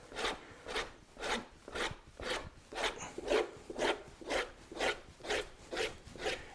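A knife drags lightly across a leather saddle foundation in a Western saddle build, making a regular series of soft scraping rasps, roughly two strokes per second, close and fairly quiet, with no voices.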